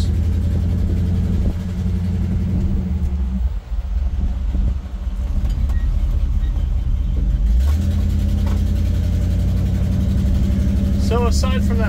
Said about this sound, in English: So aside from that little exhaust leak being a little irritating, pretty sweet truck.